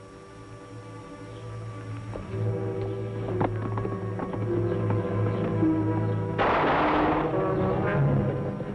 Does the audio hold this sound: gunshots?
yes